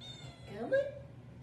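Cat giving a single drawn-out meow near the middle, fairly close and clear over a soft low background hum.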